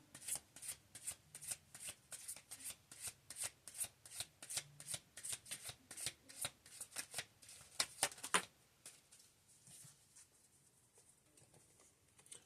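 Oracle cards shuffled in a steady rapid rhythm of crisp riffling pats, followed by a sharper snap and quieter handling as cards are drawn, close and fairly soft.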